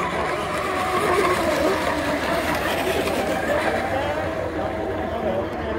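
Electric RC hydroplane boats racing on water, a continuous dense whine and spray wash heard from a distance, loud and unbroken, with an announcer's voice mixed in.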